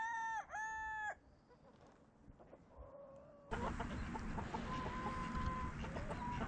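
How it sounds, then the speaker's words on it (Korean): A rooster crows loudly and close at the start, followed by scattered hen clucks and fluttering, then a burst of louder squawking and commotion as several chickens scuffle in a coop. "그의 수많은 암탉들이 테리우스랑 싸우는 소리를 들으며"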